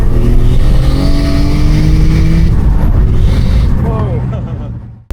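A turbocharged Acura TL-S accelerates hard, its engine note loud and close as it climbs steadily before fading out at the end. A voice is heard over the engine.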